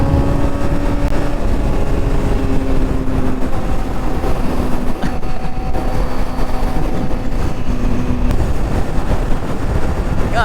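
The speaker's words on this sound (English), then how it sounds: "This exhaust is loud, but it sounds so good." A Honda CBR600RR sport bike's engine and loud exhaust pull hard through the gears, a close, continuous roar with rising tones blended with heavy wind rush throughout.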